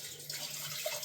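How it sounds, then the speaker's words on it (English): Salt water pours steadily out of a container, a continuous soft splashing stream with faint trickling and no voices. "So I'm just going to pour out the salt water"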